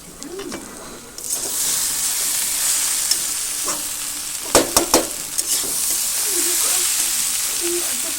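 Soaked flattened rice (chire) being stirred in a frying pan, a steady broadband sizzle throughout with a few sharp scraping knocks of the spatula near the middle, close and fairly loud, no talking.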